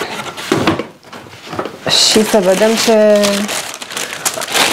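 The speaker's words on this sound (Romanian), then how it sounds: "Deschid cutia de la Zara" A Zara parcel box is opened and its paper wrapping rustles and crinkles in bursts throughout, close up, while a person talks over it.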